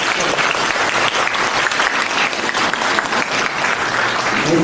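A crowd at a Buddhist dharma assembly in Aarhus, Denmark, breaks into sustained applause, a thick and continuous wash of clapping close to the microphone.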